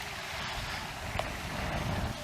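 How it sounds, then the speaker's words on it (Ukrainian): Steady wind rushing across the microphone beside a lake, a constant broadband roar with faint buffeting, no voices. "Вітер почав якийсь е, такий сильний підніматись."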